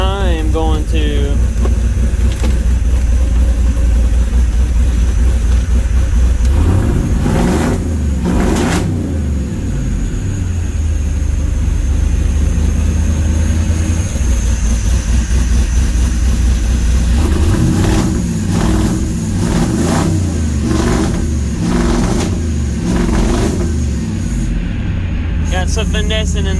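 A supercharged LSA V8 in a C10 truck on air ride sits idling with a rough, loud rumble, then climbs through two separate clusters of sharp rev blips before settling back to idle.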